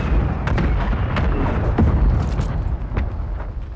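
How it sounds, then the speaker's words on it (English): Mortar strike explosions in Call of Duty MW3 on Rebirth Island, heavy low rumbling booms with scattered sharp blasts and crackles, loud and continuous over a few seconds. "Requesting fire mission. Target marked. Copy your mark. Mortar strike inbound."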